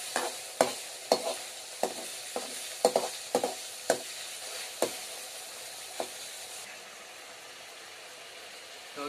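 Tomatoes sizzle and fry in a pan for aloo gobi (cauliflower and potato curry) while a utensil stirs them, giving a dozen sharp scraping knocks over a steady close hiss that continues alone toward the end.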